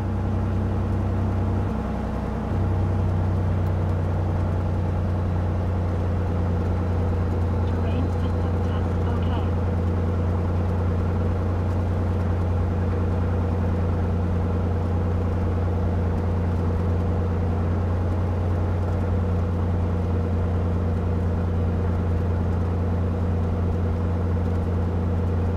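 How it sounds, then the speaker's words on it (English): A light aircraft's piston engine runs steadily at 1200 RPM during an inspection warm-up, a loud, constant droning hum with a steady low-pitched throb, while someone talks over it. "I need to put the engine on 1200 RPM so that the oil temperature comes to"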